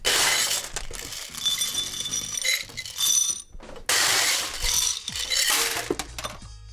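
Ice is scooped and dropped into several highball glasses at a bar, with loud rattling, clinking cubes in repeated bursts, close and bright, separated by brief pauses.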